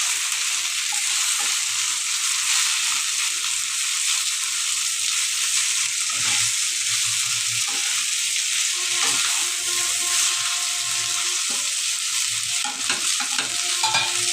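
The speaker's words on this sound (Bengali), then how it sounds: "দিয়ে আমি নাড়াচাড়া করে নিচ্ছি।" Food frying in a pan on a gas flame while being stirred, a steady loud sizzle with scraping stir strokes throughout, no voices.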